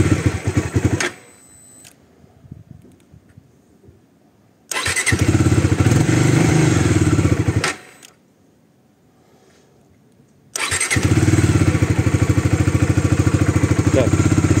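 A motorcycle that would not start is cranked with a jump starter: two loud, close bursts of engine clatter and running, each cut off by near silence, before the engine catches and keeps running steadily.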